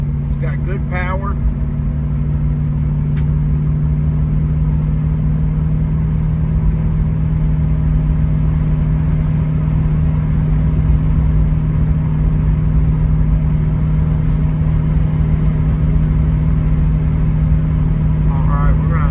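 A 1966 Ford Mustang Fastback driving on the road, its engine a steady loud low drone with continuous road rumble throughout, no clear revving peaks.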